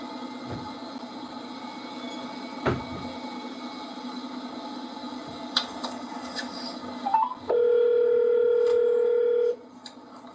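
Telephone dialing tones ahead of a recorded phone call: a few short keypad beeps, then a long steady tone lasting about two seconds, heard clearly over a faint background hum.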